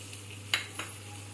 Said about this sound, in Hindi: और हम इसे अच्छे से चलाते हैं